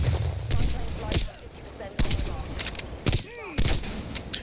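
Separate loud gunshots fired at bots in Standoff, about five sharp cracks spaced irregularly, with game effects and a voice between them.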